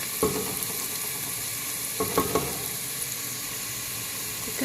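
Onion frying in oil in a pan, with a constant soft sizzle punctuated by a few sharp scraping stirs near the start and middle; close and moderately loud, no one speaking.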